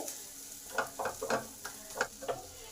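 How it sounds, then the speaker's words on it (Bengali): Spice masala frying in a little oil for a Bengali potato and pointed gourd curry, a soft steady sizzle punctuated by a series of scraping, clinking stirs of the spoon against the pan. "মশলাটা আমার ভালোভাবে কষা হয়ে গেছে তেল ছাড়তে শুরু করে দিয়েছে"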